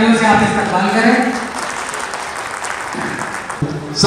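Loud applause from a crowd at a community conference in Gorakhpur, strongest at the start and easing to a steadier patter, with voices talking over it.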